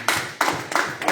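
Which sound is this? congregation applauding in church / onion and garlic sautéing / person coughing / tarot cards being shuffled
congregation applauding in church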